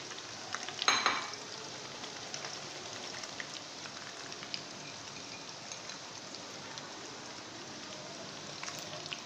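Soft, steady crackling and sizzling of oil as chicken pakoras fry crisp in a pan, with a brief louder rustle near the start.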